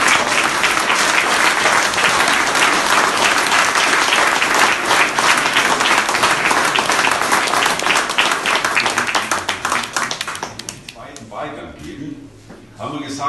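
Sustained loud applause from a crowd on a mayoral election night greeting the winner and his family, thick clapping that thins and fades out toward the end.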